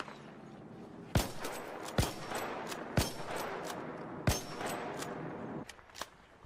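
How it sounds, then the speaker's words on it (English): Gunfire in a video game: four or five sharp, loud shots spaced about a second apart over a steady background of game ambience, with no talking. "I'll take a couple pop shots at him."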